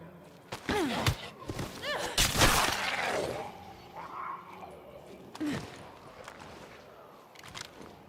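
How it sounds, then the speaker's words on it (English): A single loud gunshot in the video game State of Decay 2 cracks out sharply, surrounded by a few dull thuds and game ambience. "He's definitely gonna hear the gunshot."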